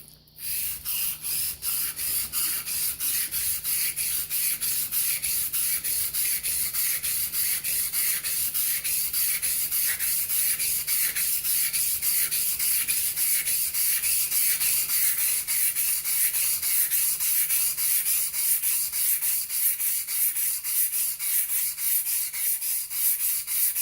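Gold Dollar 66 straight razor honed on a wet 1000 grit stone while setting the bevel, giving close, steady rhythmic scraping strokes that repeat evenly back and forth with no talking.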